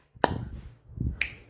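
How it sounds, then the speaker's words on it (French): Two sharp finger snaps, the first at the start and the second about a second later, each a crisp isolated crack heard close and alone with no talking. "Juste l'effet d'une claque, là. Un claquement de doigts."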